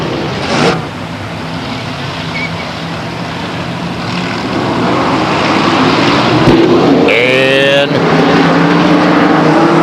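Race cars at Stockton 99 Speedway, a 1999 oval race, roar in a dense, sustained engine wash that swells as the pack comes off turn 4, with an announcer talking over the noise.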